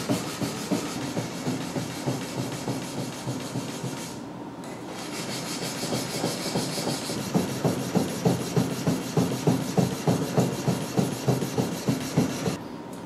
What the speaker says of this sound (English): So we'll start sanding like this.